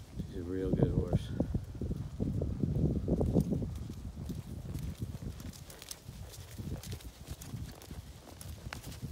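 A quarter horse's hooves clip-clop at a steady working pace after warm-up, a busy rhythmic clatter mixed with rustling and wind-like noise, loudest in the first few seconds.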